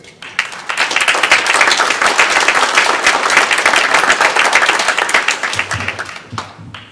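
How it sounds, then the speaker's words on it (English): Round of applause for a trustee coming to the podium at a Veterans Day ceremony, crowd clapping that rises quickly, holds steady and loud, then tapers with scattered final claps. "So I'd like to give him a round of applause as he comes to the podium."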